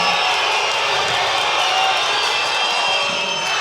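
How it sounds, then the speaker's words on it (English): Crowd at a tight 3x3 basketball game between Serbia and France roaring in a dense, steady wall of cheering noise, loud and sustained throughout with no clear breaks. "Listen to that crowd, though. It's roaring right now."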